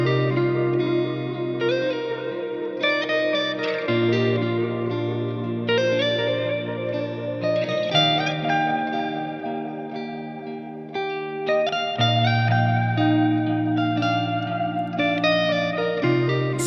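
Looped electric guitar part repeating steadily from an Eros Loop Studio looper pedal, bright chords and melodic lines with chorus and reverb, played back alone without any voices.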